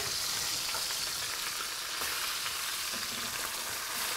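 Chicken pieces for a Spanish chicken bake sizzling in a frying pan while being flipped, a constant close hissing fry with faint scraping and clinks throughout, no talk.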